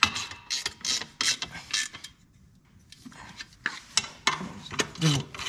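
A ratchet tightens a 12 mm bolt on the rear differential of a Yamaha Wolverine 350 ATV, with several bursts of quick clicking, a pause, then more bursts nearby.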